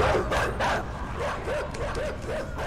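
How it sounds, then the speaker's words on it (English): A dog in the video game Inside barks and yips repeatedly in short, fairly loud bursts over a rumbling background, with a quick run of close barks in the second half. "Dog scared the bejeebus out of me."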